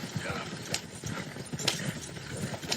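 Horse-drawn carriage moving away, hooves clip-clopping in an uneven rhythm, moderately near, with a voice speaking over the clatter.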